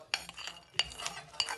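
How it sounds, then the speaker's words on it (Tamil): Cashews and raisins sautéed in a pan with sugar for laddu, a few close clinks and scrapes of a spoon against the pan over a faint sizzle, quiet and intermittent. "இப்போ நல்லா வதக்குவோம். கஜுவும் பிளம்ஸும் இப்போ போடுவோம்."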